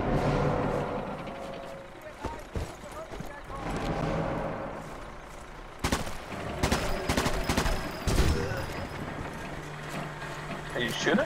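Gunfire and explosions in the video game Sniper Elite 4, bursts of rapid shots and sharp cracks, loud and dense, mixed with players talking over it.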